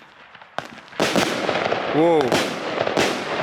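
Fireworks from a one-kilogram, 112-shot battery being lit, loud cracking bursts and a rising whistle over roughly three seconds, with people exclaiming nearby.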